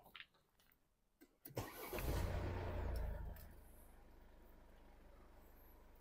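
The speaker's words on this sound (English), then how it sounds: "Now I'm going to start the car." A Mercedes diesel car with AdBlue, DPF and NOx sensor work done cranks briefly, then catches with a loud rising roar before settling into a steady low idle, heard up close.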